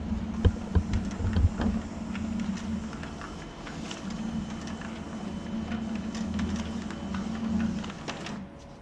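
An HP LaserJet Pro 400 laser printer runs a test report with a steady mechanical hum and whir, with a few clicks and knocks early on as it feeds, close and alone.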